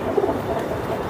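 A Super Hurricane breed pigeon coos in a brief, continuous low murmur, close and fairly loud.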